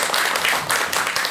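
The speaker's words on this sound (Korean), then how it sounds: "큰 박수 좀 부탁드릴게요." A short burst of audience applause at a lecture on insomnia, dense steady clapping from a crowd, with no talking.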